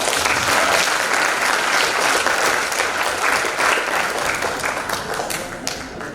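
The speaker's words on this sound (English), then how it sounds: "give a big applause" Seminar audience at an ecotourism event applauding a speaker after a presentation, a dense steady wash of many hands clapping that continues throughout and tapers slightly toward the end.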